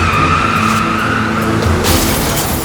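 A car skids and speeds away, its tires squealing loudly over a revving engine for nearly three seconds with no talk over it.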